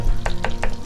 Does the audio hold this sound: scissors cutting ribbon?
no